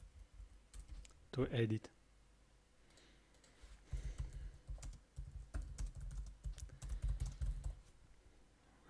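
Rapid keystrokes on a computer keyboard while code is entered, quiet close clicking in a dense run over the second half, with brief speech near the start.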